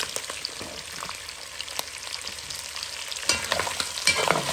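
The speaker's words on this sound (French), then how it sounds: "Je vais mettre des oignons." Onions frying in a pan while cooking salted pork tail with peas, a steady broadband sizzle with scraping stir sounds, growing louder toward the end as the pan is stirred.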